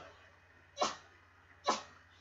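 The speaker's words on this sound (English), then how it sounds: "He just had a sneezing fit." A man sneezes twice, about a second apart, each one a sharp burst that fades fast. The room around him is otherwise quiet apart from a faint steady hum.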